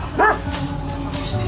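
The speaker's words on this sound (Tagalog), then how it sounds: "Sumalubong malaking aso." Large dog barking at a rural home in Balangkayan, Eastern Samar, a single deep woof near the start over steady background noise, with people faintly present.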